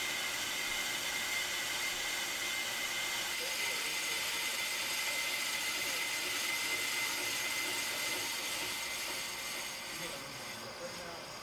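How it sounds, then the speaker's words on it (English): A Pro-Cut PFM 9.2 on-car brake lathe cuts a brake rotor, giving a steady loud mechanical whine and hum with high ringing tones, continuous throughout and easing slightly near the end. "To start the cutting pass, engage the feed clutch by pushing in the feed knob."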